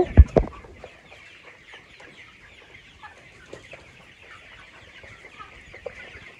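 Chickens cluck softly and intermittently, with a louder burst of clucking at the start and scattered quiet bird calls throughout.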